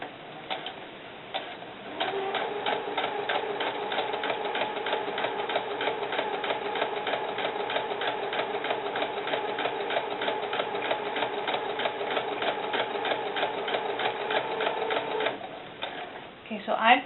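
A sewing machine stitches a dress with curled fishing line, running in a fast, steady rhythmic chatter for about thirteen seconds, bracketed by quieter handling sounds before and after.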